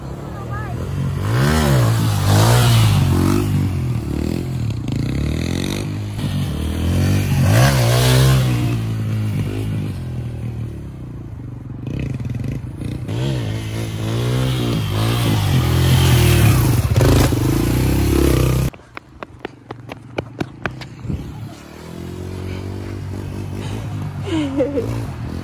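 A motorcycle held up on its rear wheel in a wheelie, the rider feathering the rear brake, its engine droning and revving loudly and steadily, then cutting to sharp clattering bursts, with talk running over much of it.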